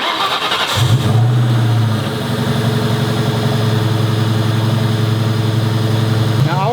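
A Terminator Cobra's engine cranks and catches with a loud burst, briefly revs, then settles into a steady, rumbling idle close by.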